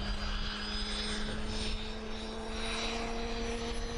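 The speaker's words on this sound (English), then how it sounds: "Other aircraft in front of me winding up now, the Gazelle just lighting up its turbine." Gazelle helicopter turbine spooling up at an air display, a steady loud engine whine with sustained tones and a rumbling low drone, continuous and fairly close.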